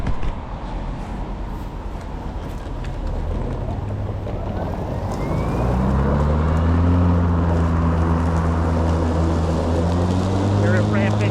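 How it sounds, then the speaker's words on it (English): A Ryobi 21-inch Whisper Series AWD mower ramps up in thick grass; its steady drone climbs in pitch and grows louder partway through, with traffic noise underneath. "You'll hear it ramp up if the traffic noise isn't too bad."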